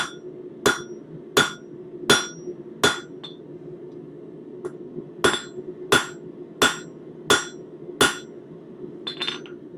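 Sharp, ringing hammer strikes on metal come in two bursts of regular blows separated by a brief pause, close up over a low steady hum.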